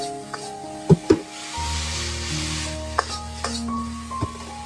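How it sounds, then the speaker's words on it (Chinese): Shredded white radish stir-fried over high heat in a wok after ginger shreds: steady loud sizzle with several sharp spatula knocks and scrapes against the pan, no voices. "接着放入白萝卜丝，这个时候来开大火煸炒一下"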